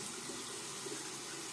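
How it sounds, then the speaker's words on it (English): Running tap water rinsing a cartridge razor clogged with cream, a steady hissing splash of water under the faucet, close and continuous with no voice. "Rinse time. I'm trying to get the remaining gunk out of here."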